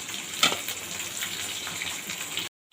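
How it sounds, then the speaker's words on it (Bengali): Spice paste with salt frying in a pan for a hilsa fish curry with aubergine and potato, a close, steady sizzle with one sharp stir near the start before it cuts off abruptly. "এখানে মশলাটিকে ভালোভাবে কষিয়ে নেব।"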